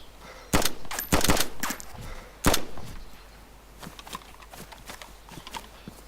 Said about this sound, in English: Silent shot! Silent shot! Someone's playing with a 2-2.